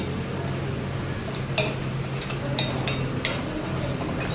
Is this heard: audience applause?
no